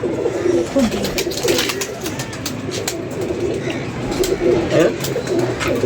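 Pigeons coo repeatedly nearby in soft, throaty bursts, with other background noise and faint voices mixed in.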